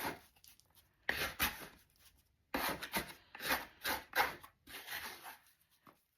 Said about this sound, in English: dough scraper to turn the dough over.